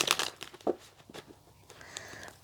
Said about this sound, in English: I'm just going to shuffle these cards again.